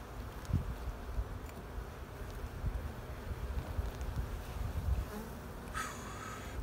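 Honey bees buzz at a hive during beekeeping work on a frame, a continuous dense hum close to the microphone with some wind noise mixed in.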